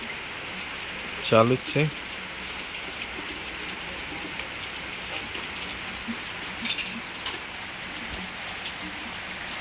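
Steady rain hisses evenly throughout, with a brief stretch of talk near the start and a few faint knocks rising above the downpour.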